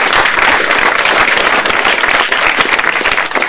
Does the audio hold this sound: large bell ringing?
no